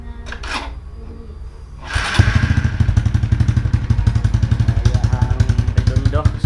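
Raider J115Fi motorcycle fitted with a 54mm stock canister and power pipe exhaust, starting up after a brief cough and settling into a loud, steady, close-up idle with rapid regular pulsing.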